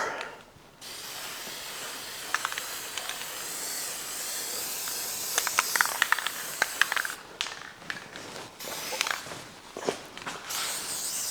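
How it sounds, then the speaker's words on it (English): Aerosol primer sprayed onto the metal bar of an old 1960s rototiller, a steady close hiss running in long bursts with short pauses, interrupted by faint clicks and handling taps, no talk. "Get a little primer on this bar."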